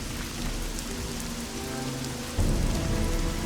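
Steady rain pelts down in a stormy scene in The Witcher 2, a dense close hiss of drops that turns heavier and louder partway through, with no voices.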